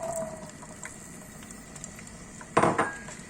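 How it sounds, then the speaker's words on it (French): Almonds fried in a little oil in a frying pan for garnishing a veal meatball tajine: a low, steady hiss runs throughout with scattered light clinks, then a loud, brief scrape and clatter of the pan or utensil near the end, with no talk. "je vais les faire revenir dans une poêle avec un peu d'huile pour ma décoration"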